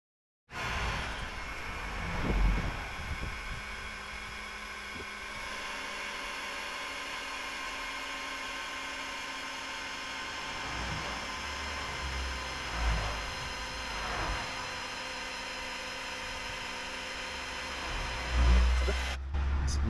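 Vevor 5-ton electric car jack lifting a car, a steady, moderate motor whine humming continuously, with a few brief knocks and thumps along the way.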